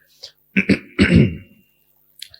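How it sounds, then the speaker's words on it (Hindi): A single close, loud throat clearing, a couple of rough rasping pushes followed by a longer gravelly rumble. "आप भी अपना गला साफ करें।"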